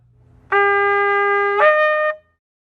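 A shofar sounds a single long, steady tekiah blast, bright and brassy, that swells louder near the end before cutting off, with no one talking.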